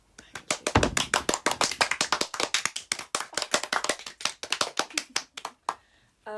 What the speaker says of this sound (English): And I'm clapping.